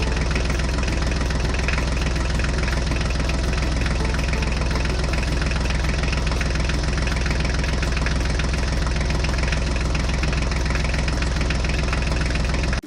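A Mahindra tractor engine in a video game idles with a steady, dense low rumble and a knocking chug, loud and unbroken for the whole stretch, with no voices over it.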